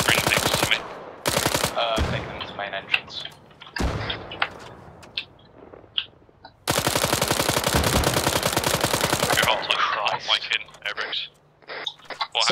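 Long sustained bursts of fully automatic rifle fire in ArmA 3, a whole magazine dumped with the trigger held, rattle loudly in rapid strings between stretches of radio chatter from players.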